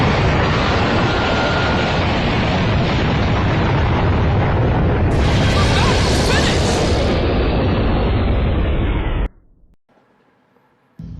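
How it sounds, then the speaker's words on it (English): A sustained, loud, broadband roar fills about nine seconds like a powerful explosion or blast rumbling close by, with a brighter hissing surge midway, then cutting off abruptly into near silence. "Explosion!"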